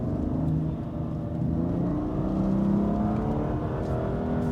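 A BMW M2 Competition F87 accelerates hard in Sport Plus mode at night on rally-style roads, its engine note climbing in pitch, loud and close from inside the car with no talking.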